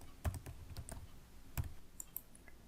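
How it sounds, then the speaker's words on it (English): A password being typed on a computer keyboard, a few scattered key clicks in short bursts, close and fairly quiet, with no speech. "Go and type in password for root."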